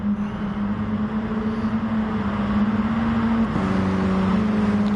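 Racing cars in GT Sport roar around the track in a league race, a continuous loud engine whine that dips and shifts in pitch as a car carries speed through a corner.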